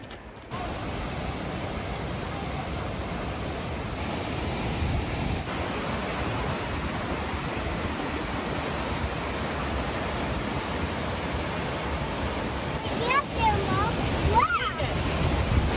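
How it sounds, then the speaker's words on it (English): Treasure Falls in Colorado pours with a loud, continuous roar of falling water, a broad steady rush heard nearby on a shaded hiking trail, with brief voices near the end. "the reward is this beautiful waterfall"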